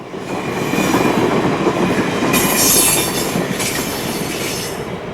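An Amtrak passenger train rushes past on straight track at Mineral Point on a winter day with a loud rumbling roar, rising to a peak with bright wheel hiss before gradually fading away.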